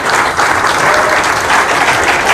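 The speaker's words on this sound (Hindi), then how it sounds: "उसके लिए भी ताली बजाओ, खड़ा हो जाओ भाई, इसकी पूरी टीम के लिए" Large audience at a motivational speech event breaking into loud, dense applause, a sustained close roar of clapping with a faint crowd murmur beneath.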